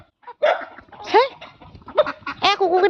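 Several dogs close by let out short yips, whimpers and bow-wow barks in uneven bursts, mixed with talking and other voices.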